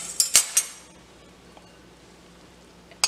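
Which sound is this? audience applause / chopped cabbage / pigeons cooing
chopped cabbage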